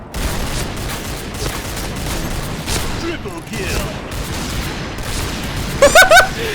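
Rapid bursts of gunfire from a scoped gun in a first-person shooter game, loud and close, with a quick burst of several shots near the end and a voice talking over the action.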